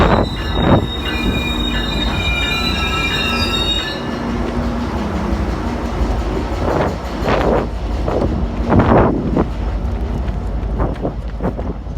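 Amtrak train 91 passes close by at a railfan gathering in Glenview, loud wheels squealing and rumbling on the rails, with rhythmic clicks from the cars over about twelve seconds and wind buffeting the microphone.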